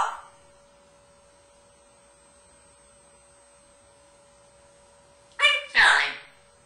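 A talking parrot imitates a dog's bark near the end, two short rough bark-like bursts after a long quiet stretch with faint steady background hum.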